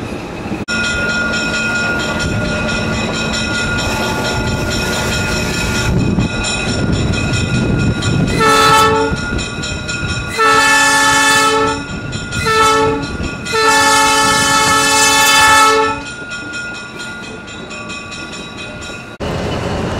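A train departing Rockton, South Carolina, rumbles along the rails with a steady clatter, while a loud horn blares in several long blasts partway through.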